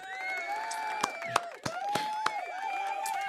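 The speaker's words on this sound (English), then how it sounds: "Big shout out and round of applause to Rick Ross." A live audience claps and cheers after a shout-out to Rick Ross, a steady wash of crowd noise broken by a few sharp claps and whoops.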